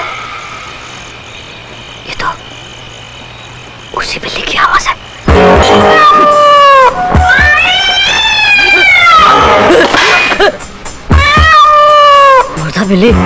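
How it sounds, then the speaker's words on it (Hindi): Repeated cat meows, loud and close, in a series of drawn-out cries with brief pauses between them, from a horror film scene. "ये तो उसी बिल्ली की आवाज है।"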